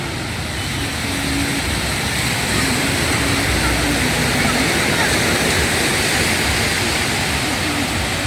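Surf rolls in at Pantai Ujung Blang beach near Lhokseumawe, a loud, constant wash of breaking waves close by, with a faint low hum beneath.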